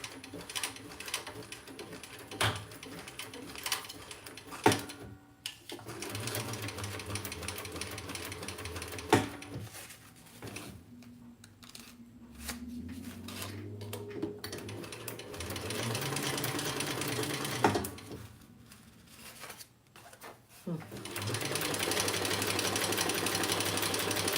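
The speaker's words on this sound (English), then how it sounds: "I'm just basting the pocket on." A sewing machine basting a pocket onto thin fabric runs in bursts of rapid, steady stitching hum and clatter, stopping and restarting several times, close and loud with no voices.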